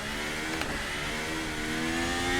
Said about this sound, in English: I need to keep the engine running so I don't stall out while doing donuts